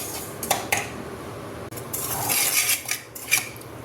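Semolina roasting in ghee in a pan, with a utensil scraping and stirring against the metal in short bursts of rubbing and clinking, heard close with no voices.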